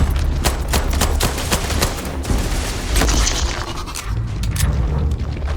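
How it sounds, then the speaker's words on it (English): Sustained gunfire in Starfield, a loud rapid stream of sharp shots and bursts over a steady low rumble, continuing for several seconds without speech. "Opening fire."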